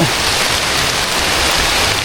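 Steady, heavy rain hissing down nearby on a papaya plantation, a dense unbroken wash of drops with no voices.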